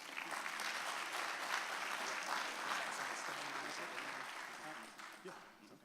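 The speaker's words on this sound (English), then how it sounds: "Ladies and gentlemen, put your hands together for Michael Soul." Sustained, dense applause fills a room as an audience welcomes a speaker onto the stage of a sports show, steady and broad throughout before tapering slightly at the end.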